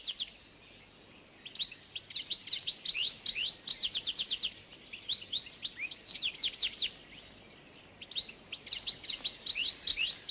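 Goldfinches, colourful British garden finches, chirp and sing in bright, rapid twittering bursts that repeat throughout with short pauses, moderately loud and close over a quiet outdoor background.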